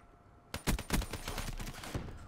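Rapid bursts of gunfire erupt in a shooter video game gunfight, loud, dense overlapping shots with sharp cracks after a brief quiet start, continuing steadily to the end.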